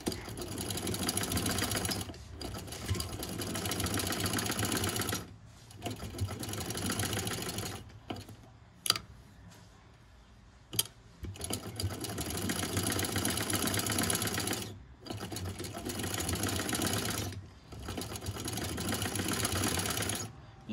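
A sewing machine stitches a cutwork design on trouser fabric, running in long steady whirring bursts of several seconds each, split by short pauses and a quieter stretch in the middle.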